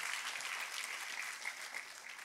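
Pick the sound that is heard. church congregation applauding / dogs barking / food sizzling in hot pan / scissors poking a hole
church congregation applauding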